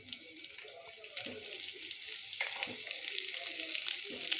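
Whole urad dal, cumin, mustard seeds and curry leaves tempering in hot oil, a steady close-up sizzle with brief crackles and spits throughout, no voices.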